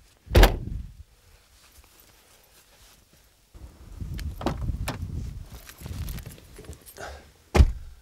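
Heavy car door hung on two small hinges slamming shut with a deep, solid thunk, followed by rustling and handling noise and a second firm slam near the end.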